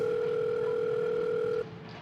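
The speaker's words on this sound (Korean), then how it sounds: "집 앞에서 수아한테 전화를 걸었습니다" An outgoing phone call gives a steady electronic ringing tone that holds for about a second and a half, then cuts off into a quiet hiss.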